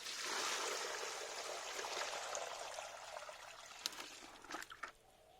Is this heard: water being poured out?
yes